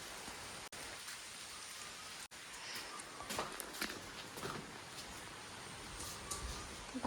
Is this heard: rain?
yes